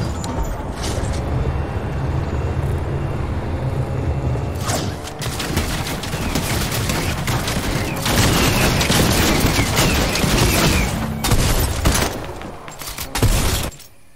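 Rapid submachine gun fire in the Fortnite video game, dense bursts of shots running almost continuously with louder stretches near the end, crashes and game effects mixed in.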